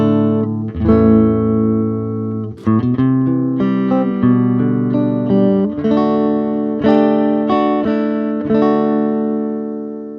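Clean, effect-free Epiphone Casino hollow-body electric guitar through a Laney K35 twin reverb combo amp, miked with a Sennheiser E906, playing sustained chords and melodic notes with steady loudness and no voice.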